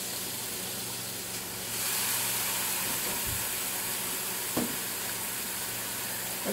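Burgers sizzling on a double pan grill and press set indoors, a steady close frying hiss throughout with a few soft pops and small clicks, no voices.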